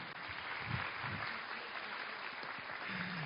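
Audience at a church revival gathering applauding, a soft, even spread of clapping that holds steady and sounds fairly distant.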